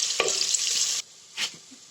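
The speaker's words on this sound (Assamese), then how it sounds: "তেল গৰম কৰি মই এতিয়া ইয়াতে পিঁয়াজখিনি দি দিলোঁ" Loud, close sizzle of onions frying in hot oil for pulao, with a scrape of stirring, then the hiss drops away abruptly, leaving a brief clatter.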